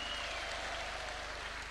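Applause welcoming the Education Cabinet Secretary at a State House teachers' forum comes through as a steady, diffuse patter of many hands clapping, faint and distant throughout.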